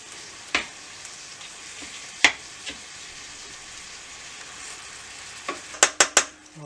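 Chicken livers fry in a pan with a soft continuous sizzle, broken by scattered sharp pops and spits, a quick cluster of them near the end.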